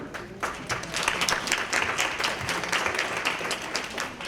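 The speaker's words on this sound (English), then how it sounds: "I'm really sorry that gets applause" Applause from the audience at a luncheon for grandparents raising grandkids, a fairly dense patter of many hands clapping that holds steady for a few seconds at moderate volume.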